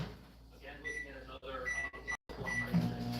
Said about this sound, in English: 5 minutes in the microwave.